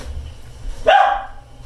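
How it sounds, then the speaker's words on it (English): A neighbors' dog lets out a single sharp bark from some distance, heard over quiet kitchen background noise while fried chicken is being prepared. "The neighbors have a dog."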